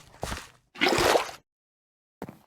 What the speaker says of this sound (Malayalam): ഇവിടെ നിന്ന് തന്നെ വെള്ളം എടുക്കാം.